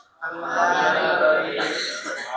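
Several people coughing and clearing their throats together in a classroom, a dense cluster of overlapping coughs lasting about two seconds at moderate loudness.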